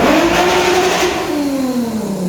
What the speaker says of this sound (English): nothing sounds better than this R32